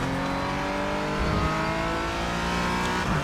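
A Porsche Cayman GT4 race car in iRacing howls through a lap of Sebring with a loud, steady engine drone. The pitch shifts briefly as the car brakes or changes gear, with no voices over it.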